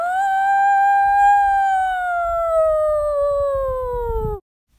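A sustained howl voiced by a person imitating a beagle in distress, one long falling wail lasting several seconds over low rumbling background noise, loud and close before cutting off abruptly.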